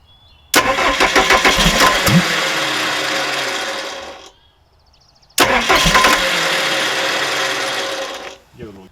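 The rebuilt 4BD1T diesel engine of a Hitachi EX120-2 excavator cranks and catches twice, each time running loud and rattly for several seconds before cutting out, with a quiet gap between attempts.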